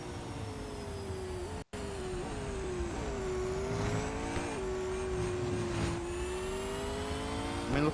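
An electric race car engine in the mobile racing game Real Racing 3 whines steadily at high pitch, rising and falling with throttle, with a brief dropout near the start and faint tire noise underneath.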